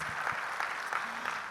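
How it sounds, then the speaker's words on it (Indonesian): Church congregation clapping together during a sermon, a steady wash of applause filling the room, loud and sustained with no voices over it. "Tepuk tangan yuk buat Tuhan kita Yesus Kristus."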